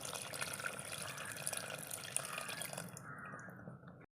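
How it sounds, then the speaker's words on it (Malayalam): Tamarind water pours steadily into a pot of sambar with a soft splashing trickle for a few seconds, then stops abruptly. "നമുക്ക് പുളി വെള്ളം ഒഴിച്ച് കൊടുക്കാം"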